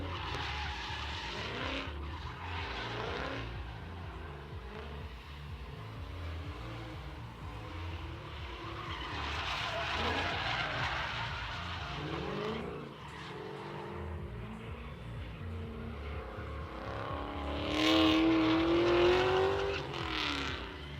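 Drift car skidding through the drift pit at a Big Indian Motorsports test-and-tune day, engine roaring loud and steady with sustained tire squeal, rising to a sharper howl near the end.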